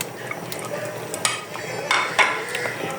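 Almonds and coconut are stirred into a shahi gajrela carrot dessert in a pan, giving a steady soft scraping and shuffling with occasional sharper clinks of the spoon against the pan, heard close up.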